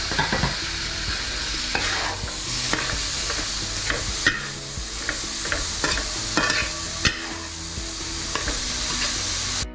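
Green peas being stirred into a masala for paneer mattar, with repeated clattering scrapes of a spatula against the pan over a constant sizzle, close and loud, with no voices.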